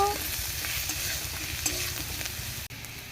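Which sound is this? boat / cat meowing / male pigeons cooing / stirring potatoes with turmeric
stirring potatoes with turmeric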